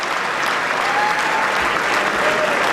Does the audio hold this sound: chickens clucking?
no